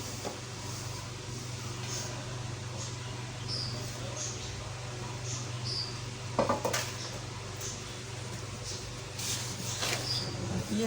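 Chopped dry fruits being stirred into panjiri in a pan over a low flame, giving soft, faint scraping and rustling with a clink near the middle, over a steady low hum.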